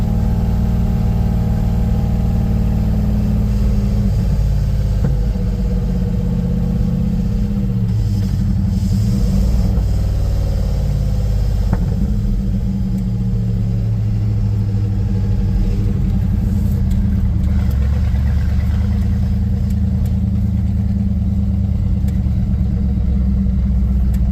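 A 1955 Ford gasser with its engine running steadily, a loud, deep rumbling idle with gentle rises in revs, close and continuous, any backfire pops not distinct.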